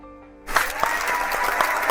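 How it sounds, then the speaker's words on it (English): Clapping from an audience at an internet marketing event starts abruptly after a short quiet moment, then continues as a steady, fairly close patter of many hands. "Come on, let me hear you clap."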